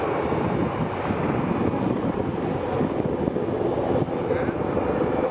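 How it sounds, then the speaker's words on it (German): Two military transport helicopters of the Bundeswehr depart an air show display area after dropping troops, their engine and rotor roar loud, steady and broad throughout with wind buffeting the microphone. "Soldiers of the QRF have deployed rapidly from the 2 transport helicopters, which now leave the area as quickly as possible."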